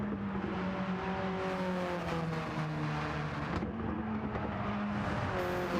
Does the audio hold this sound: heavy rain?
no